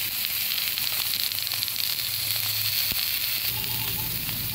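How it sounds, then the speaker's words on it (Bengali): Eggplant pieces sizzling in hot oil in a pan for a tengra fish curry, a steady, dense, close frying hiss that continues without a break. "ওই তেলেই দিয়ে দেব বেগুনগুলো।"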